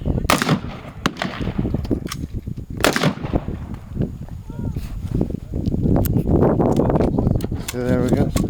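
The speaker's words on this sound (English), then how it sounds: "Can you shoot this?" Heritage Rough Rider .22 LR revolver firing, several sharp single gunshots spaced apart with sharp cracks, mixed with people talking nearby outdoors.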